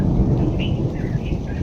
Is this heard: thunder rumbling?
yes